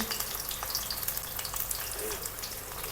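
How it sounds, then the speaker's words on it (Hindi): Onions and bitter gourd fry on low heat in a kadhai, giving a steady close sizzle and crackle that runs unbroken throughout with no voices over it. "अब मैं इसको हल्की आंच पे फ्राई करूंगी।"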